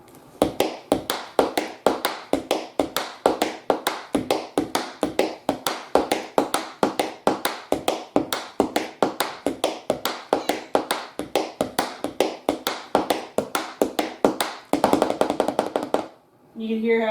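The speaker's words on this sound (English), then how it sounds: "You can hear how it's starting to sound a little bit like popcorn" Rapid tap dancing: dense, crisp shoe taps in quick popcorn-like bursts, a steady stream of sharp clicks that fill the passage before a brief flurry and pause at the end.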